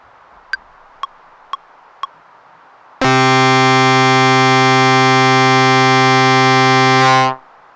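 Octave Cs run through a Boss Metal Zone MT-2 pedal: four short clean plucked notes, then a loud, harsh, buzzing distorted tone held for about four seconds before cutting off.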